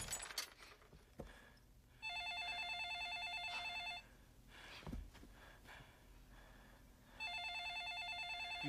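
A telephone bell rings in two loud, steady bursts separated by a quieter pause that holds a few faint thuds and breaths.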